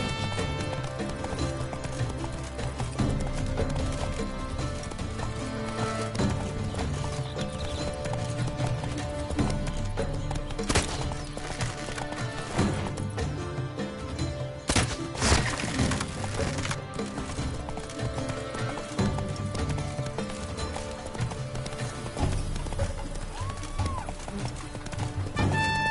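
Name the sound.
horse galloping, Roach in video game The Witcher 3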